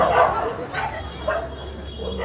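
Dogs in Ramganj barking near a Ram Katha religious gathering, a few yapping barks spaced about a second apart, mid-distance, with crowd noise and a faint voice beneath.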